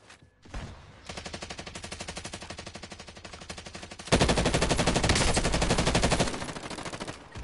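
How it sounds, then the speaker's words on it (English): Suppressing machine gun fire in a video game: a long, sustained automatic burst of rapid, evenly spaced shots, close and loud. It grows heavier and louder midway before easing off near the end, with no talk over it. "Suppression fire."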